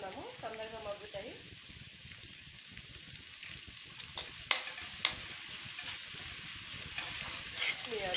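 Onions sautéing with a pinch of salt in a pan give off a steady, soft sizzle and frying crackle, with a few sharper clinks and stirring sounds partway through, close and moderately quiet.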